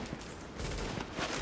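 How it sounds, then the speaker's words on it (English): Gunfire from the video game Tom Clancy's The Division: a rapid, muffled volley of shots rattles off steadily, sounding somewhat distant, with no voice over it. "oh, I can hear gunfire"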